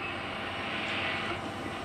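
A vehicle engine keeps running with the key switched off and removed, a steady, moderately quiet mechanical drone with a faint higher whine, holding constant throughout without speech.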